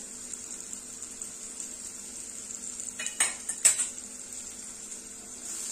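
Chilli powder, salt and turmeric being stirred into softened tomato in a pan, with a few brief metal scrapes and clinks midway over a steady faint hiss, no talking.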